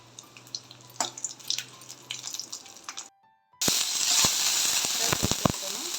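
Mustard seeds, urad dal and dried red chillies are tipped into hot oil for tempering, setting off a loud, close, steady sizzle after a short pause, following a few seconds of softer kitchen clatter.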